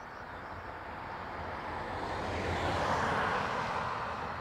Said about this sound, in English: Aer Lingus 321 Neo from Boston next.